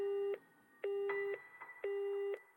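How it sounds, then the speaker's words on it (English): A telephone busy signal from the video game You and Me and Her: three identical steady tones, each about half a second long, separated by short gaps with faint background noise, clear and alone. "All I got were out of service error messages"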